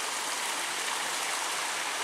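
Steady broadband rush of flowing stream water near Bee Fall in Pachmarhi, India, close and continuous, with no voices.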